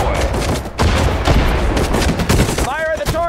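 Gunfire rattles through a Sudden Strike 4 Pacific War battle on Guadalcanal, with dense overlapping volleys and bursts that are loud and continuous, and a whistling, warbling tone near the end.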